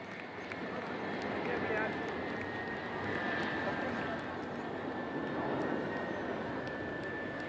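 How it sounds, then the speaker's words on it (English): An IL-78 MKI tanker flying with two Mirage 2000 jets over the Chennai Air Show at Marina beach, a steady, loud jet roar under a crowd's murmur and a commentator's talk. "அடுத்த வரிசையில் IL-78 MKI மற்றும் 2 மிராஜ் 2000 ஆகியவை உள்ளன."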